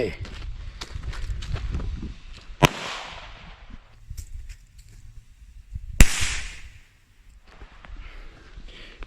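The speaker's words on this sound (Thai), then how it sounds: "เราจะเริ่มต้นจากประทัดยากุซ่าเนาะ นี่ไง ประทัดยากุซ่าของเราใส่ลงไป แล้วก็ไฟแช็กของเราครับผม" Yakuza brand firecrackers burst twice, each a sharp loud bang followed by a hissing, crackling tail, with rustling, footsteps and scattered handling noises in between.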